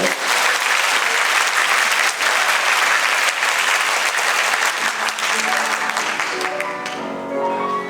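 A concert audience gives loud, dense, sustained applause to welcome a tenor, continuous clapping that fills the space before a piano begins to play near the end.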